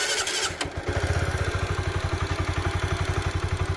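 A motorcycle with bore packing wear and an oil leak cranks and catches, then settles into a steady, loud, rhythmic idle with clattering and rattling from the engine, close up.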